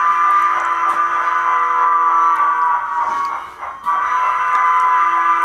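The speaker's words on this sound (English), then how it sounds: "whoa, we gotta catch up to the train." An On30 scale model train runs on a large basement layout, giving a steady close mechanical hum and whine with a brief dip near the end, and no voices.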